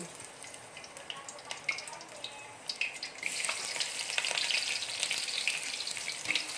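Shallots go into hot oil in a pan: a few quiet clicks and taps come first, then a sudden, sustained crackling sizzle takes over.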